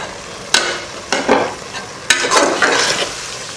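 Eggs stirred into a frying mix of ginger-garlic paste and yogurt in a pan for egg biryani, with several scraping spoon strokes over a close, steady sizzle and no voices.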